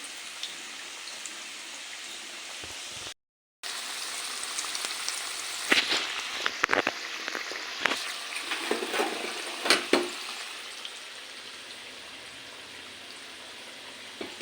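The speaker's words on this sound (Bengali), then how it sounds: "লাল লাল করে আমি ভেজে নিচ্ছি" Pitha stuffed with sesame and coconut fry in hot oil, a steady close sizzle broken by a brief gap, then bursts of crackling and spattering pops as pieces are turned, settling back to a soft hiss.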